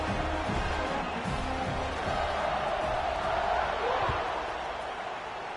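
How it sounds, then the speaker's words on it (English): A stadium crowd at a college football game between North Carolina and USC keeps up a loud, steady buzz, a dense wash of many voices with scattered thumps and shouts throughout. "this crowd is buzzing after that last score"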